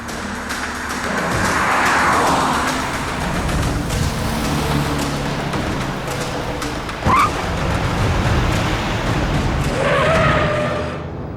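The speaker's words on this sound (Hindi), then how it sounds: "इसने गाड़ी तो जगत नगर की तरफ मोड़ ली" A car drives along and turns onto a quiet road, a steady loud engine and road rumble with a brief sharp squeal partway through and some tire noise near the end.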